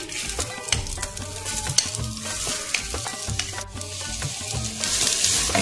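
Onions frying in oil in a handi for a butter beef dish, a steady crackling sizzle punctuated by repeated spatula scrapes and clinks against the pot, close up, the sizzle swelling louder toward the end.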